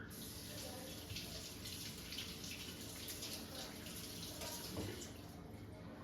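Tap water runs steadily into a kitchen sink while food, including carrots, is rinsed under it; a continuous, fairly quiet splashing rush with no pauses.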